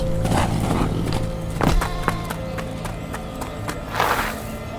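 Horse hooves in an audio drama ambush scene, a rapid clattering of beats with louder thumps and scuffs near the middle and end, close and loud, with no speech over them.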